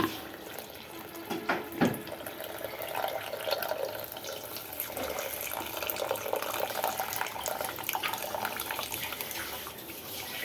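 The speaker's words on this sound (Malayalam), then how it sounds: "അതിലേക്ക് ഈ രണ്ടാം പാൽ ഒഴിച്ചു കൊടുക്കാം" Thin coconut milk is poured into a simmering fish curry, a soft, steady trickle and splash into the pot that continues gently throughout at low volume.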